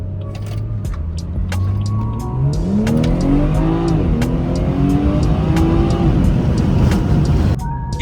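A stock BMW 340i xDrive pulls away and accelerates hard, its engine note climbing steadily through the revs, loud and close from inside the car, with a brief tire chirp and the engine easing off near the end.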